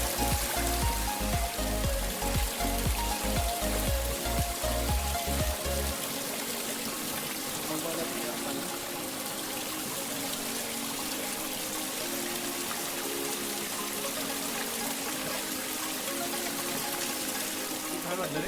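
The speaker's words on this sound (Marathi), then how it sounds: "पाईप लावला आहे जेणेकरून प्यायला मिळेल व्यवस्थित पाणी" Water streams steadily from a pipe at a hillside temple drinking spot, a continuous splashing flow near at hand, with a few pulsing low thumps early on and no talk over it.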